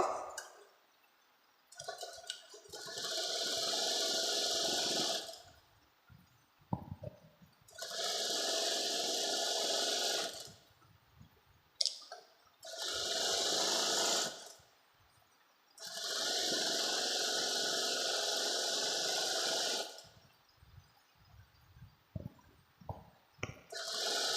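A sewing machine stitching a Patiala salwar runs in several bursts of steady whirring, each a few seconds long, separated by quiet pauses with small handling noises, close and alone without talk.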